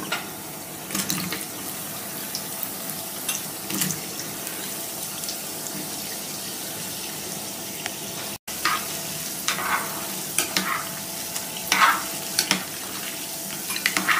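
Halved street-food pieces sizzle steadily in a hot pan in a home kitchen while being stirred, a close, continuous frying hiss broken by scraping stirs and a brief tap-like splash, with no talking.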